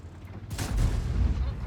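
Tank gun firing in World of Tanks, a single deep booming blast with a rumbling low tail after a brief quiet lead-in.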